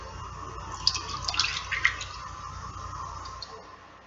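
Liquid jello mixture poured into a pan gives a soft, continuous splashing trickle with a few brighter splashes in the middle, close and fairly quiet, with no talking.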